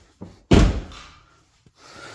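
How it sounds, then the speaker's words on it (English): An Audi A5 car door shuts with one solid, close slam after a light click of the handle, the thud fading out; a faint latch tick and a soft rustle follow. "Let's try closing the door."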